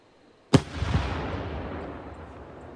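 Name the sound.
shakudama firework shell launching in Nagano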